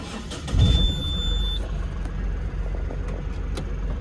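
A car on a roadside stop near a petrol pump starts up with a brief louder burst, then settles into a steady low engine rumble as it pulls away, with no talk.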